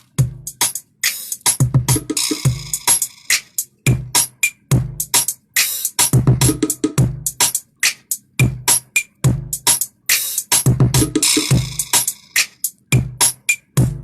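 Dry mixed drum kit playing a steady groove, punchy kicks and snares with crisp cymbals, loud and close with no reverb tail, no voices.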